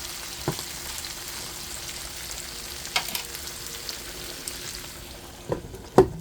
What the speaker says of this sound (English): I'm just gonna fry it for about 2 minutes or so